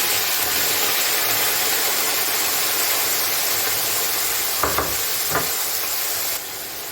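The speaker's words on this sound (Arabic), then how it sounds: "هنزل بقطع الفراخ بتاعتي كده" Chicken pieces frying in a pan with two spoonfuls of oil give a steady, loud hiss and sizzle throughout, with a few brief sharper crackles near the end.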